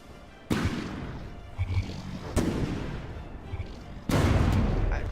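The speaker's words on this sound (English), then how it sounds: "taking another hit to the turret from those explosive shells" Explosive shells slam into a tank's turret in the video game From the Depths, T90 versus Type 621, three heavy booming impacts over a continuous rumbling din.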